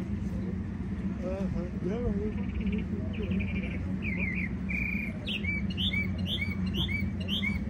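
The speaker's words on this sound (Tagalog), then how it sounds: "Mahapon na yung mga ibon." Several birds chirp and whistle in short repeated calls at dusk in San Diego, California, over a steady low rumble of traffic, growing busier toward the end.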